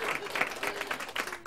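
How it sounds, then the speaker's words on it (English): A small audience at a magic show gives brief, scattered applause, moderately loud and lasting barely a second and a half, with a voice faintly audible. "Please, a round of applause for Diana's"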